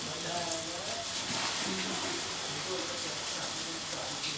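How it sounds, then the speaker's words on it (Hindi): Rain falls steadily outside a home among potted plants in Ayodhya, a soft even hiss heard at a distance, while someone talks over it. "ये देखिए बारिश हो रही है मेरे यहाँ"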